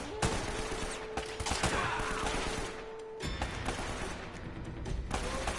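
Rapid bursts of gunfire ring out in the Uncharted video game, dense overlapping shots and impacts filling the whole stretch at close range.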